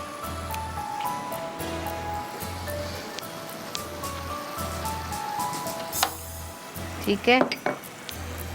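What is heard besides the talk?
qeema with cream being fried on a tawa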